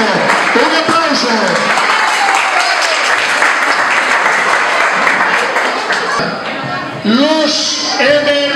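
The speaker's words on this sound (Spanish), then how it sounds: "Un aplauso." An audience at a school Mother's Day celebration claps in a sustained burst of applause, with voices and the crowd's hubbub mixed in.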